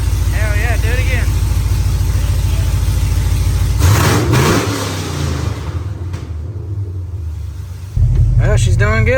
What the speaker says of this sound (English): That's just a little rev. She ain't misfiring like she was.